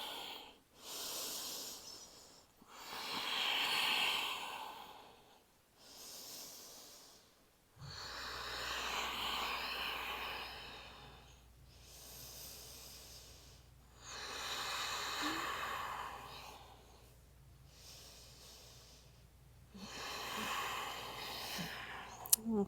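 Slow, deep yoga breaths during an advanced flow session, long airy inhales and exhales rising and falling in steady waves, close and fairly quiet, with a low hum underneath in the second half.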